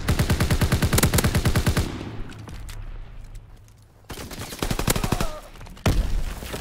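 Rapid automatic gunfire from Call of Duty: WWII, loud and close, rattling in bursts that stop, then return after a quieter stretch, with occasional single shots.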